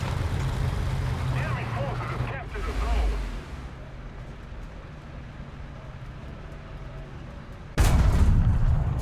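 A King Tiger tank's main gun fires in a video game: a heavy boom with a rumbling tail, then a second loud blast near the end over a steady engine drone. Someone talks in between.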